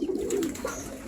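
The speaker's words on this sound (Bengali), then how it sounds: "এটা কি জাতের কবুতর? এটা লাহোরি।" A Lahori pigeon kept by a hobby pigeon breeder gives a short, close, throaty coo that rises and falls once, with light ambient noise around it.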